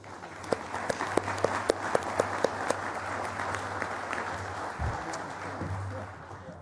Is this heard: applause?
yes